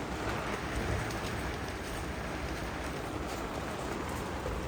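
Heavy stormy rain in a village pours onto surfaces, a dense, even hiss of drops that stays loud and unbroken throughout, with no talking.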